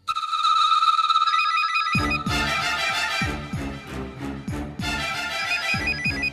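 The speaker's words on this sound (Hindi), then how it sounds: "लो, आ गया तुम्हारी आई का फोन" A phone ringtone chimes in a repeating electronic melody, at first alone, then backed by a rhythmic musical beat, continuing for several seconds.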